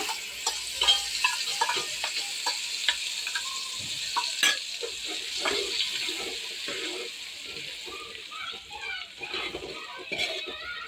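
Masala being stirred into browned onions in a pan: scraping stirs and soft sizzling with intermittent clinks and wet shuffles, fairly quiet and close, with no voices.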